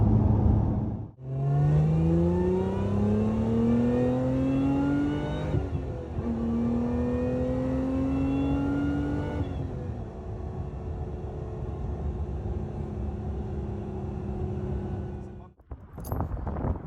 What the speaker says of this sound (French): dans le rétro le papillon du compresseur qui s'ouvre et on a toujours cette sonorité très présente avec ce sifflement caractéristique